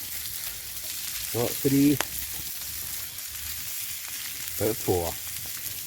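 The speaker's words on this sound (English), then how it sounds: "So, it's burger time. Ready for that sizzle, folks?" Burgers sizzle in a pan over a campfire during a woodland hammock camp in Scotland, a steady frying hiss running throughout while a person speaks briefly in two short bursts.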